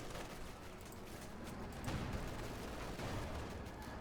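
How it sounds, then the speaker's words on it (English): Sherman tank firing amid a Company of Heroes 2 battle, heard as faint, distant rumbling gunfire with a slightly heavier burst partway through, all under a continuous wash of combat noise. "Sherman up there, firing away."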